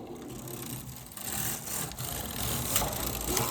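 A domestic knitting machine works a row during partial knitting of wedge shapes, producing a continuous close mechanical swishing and rattling as the carriage travels, growing slightly louder partway through.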